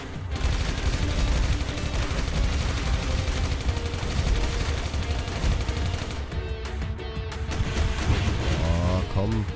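Cannon blasts and rapid gunfire fill a ship-tour level of the video game Final Exam, a dense, loud, continuous barrage of shots and engine roar with a player's voice talking over it.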